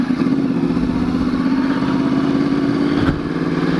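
A Yamaha R1 motorcycle with an aftermarket exhaust idles with a deep, throaty exhaust rumble, steady and close, with a brief blip around the three-second mark.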